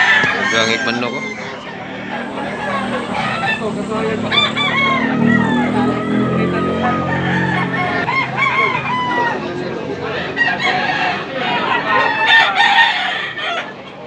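Several black Hennie gamecocks crow and cluck one after another at a crowded rooster market in Tabunok, Cebu, the calls fairly close and continuous, with voices chattering underneath.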